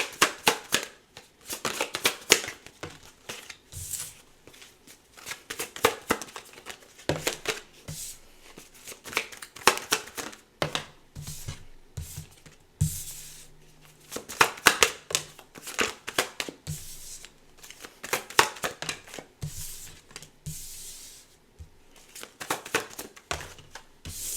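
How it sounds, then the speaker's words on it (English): Tarot cards are shuffled and pulled in a quick flurry of crisp riffling and slapping card sounds, close and steady throughout with brief pauses, and no talking. "Just give me a second to pull some cards."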